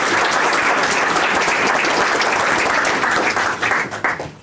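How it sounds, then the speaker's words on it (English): An audience at a Trauma Awareness Day event breaks into loud, dense applause that carries on steadily and then thins out over the final second. "And for that, a round of applause."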